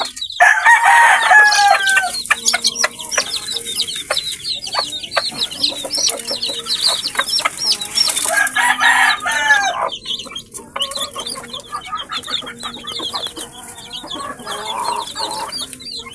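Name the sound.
chickens and chicks on a poultry farm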